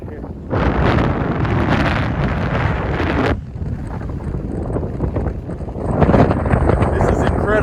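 Strong wind gusting outdoors in Southern California, a loud broadband roar buffeting the microphone in sustained bursts, easing briefly midway and then surging again.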